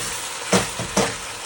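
Coconut with green chili, ginger and tomato paste sizzles in a pan, two sharp bursts as the paste hits the hot oil over a steady low frying hiss, close and alone.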